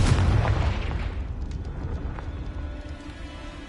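A Confringo spell explosion from Hogwarts Legacy, heard as a loud booming blast up front that fades into a rumbling, crackling decay with scattered small pops.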